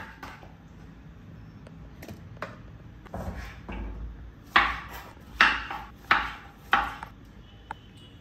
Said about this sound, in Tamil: இந்த வெங்காயத்தை சும்மா 2 பீஸாக கட் பண்ணி அரைக்கிறதுக்கு எடுத்துக்க போகிறோம்